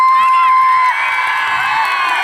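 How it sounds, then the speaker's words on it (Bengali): Loud crowd of fans cheering and whooping with scattered clapping at a film team's promotional event in Purulia, with shrill high voices and children's shouts dominating throughout. "তোমাদের জন্য একটা জোরে হাততালি হয়ে যাবে"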